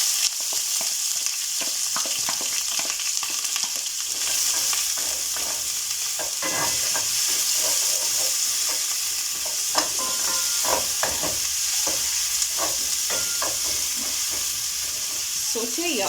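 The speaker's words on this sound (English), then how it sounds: "when your oil is hot enough, add in your onions and garlic at the same time" Onions and garlic frying in hot oil for a minced beef stew, a steady close sizzle with scattered crackles and pops and occasional stirring scrapes throughout.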